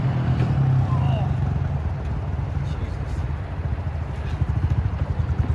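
A motorcycle runs on a budget Temu chain with a steady low engine rumble, the bike rolling along close by from start to finish under a continuous mechanical drone.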